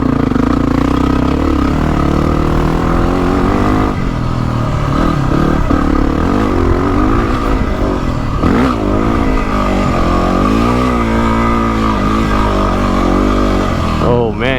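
Yamaha WR dirt bike climbing a steep off-road trail, its engine droning and revving steadily throughout at close range, with some clatter as it works up the slope.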